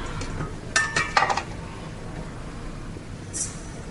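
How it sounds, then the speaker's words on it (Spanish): Sugar is whisked into cupcake batter in a bowl, giving a few quick clinking metal-on-bowl strokes, close and fairly light, then quieter scraping. "Y batimos hasta que esté espumoso"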